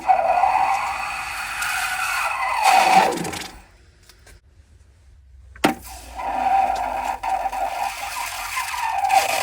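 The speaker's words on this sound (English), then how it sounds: "That sound is basically the energy being released when the hot silver hits that" Molten hot silver poured onto ice gives loud, close hissing sizzles with a thin, squealing whine. A quiet pause follows, then a sharp crack and the sizzling hiss picks up again.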